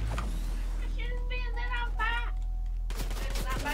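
Scattered distant gunshots in the battle-royale video game Fortnite crackle in short bursts, with brief spoken remarks alongside.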